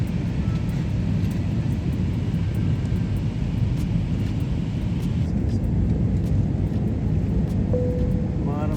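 An airliner descends on approach to Malé airport in the Maldives, its engines and cabin noise a loud, steady, unbroken roar heard from inside the plane throughout.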